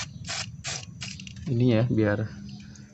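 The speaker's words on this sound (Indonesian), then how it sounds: "kita semprot pakai WD dulu biar" Short hissing bursts of WD-40 lubricant are sprayed onto the bolts of a Mazda Interplay 323 clutch master cylinder. Three quick sprays come first, followed by someone speaking briefly.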